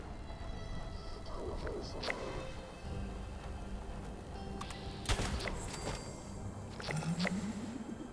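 Gunfire from the video game Fallout 76, with scattered shots and bursts cutting through a dense, steady game soundscape.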